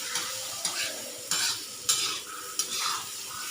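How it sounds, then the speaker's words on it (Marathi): Karatoli wild vegetable and onion sizzle in a hot iron pan while a utensil scrapes and tosses them in regular strokes, about one every half second. "आता छानपैकी परतून घ्यायचा आहे"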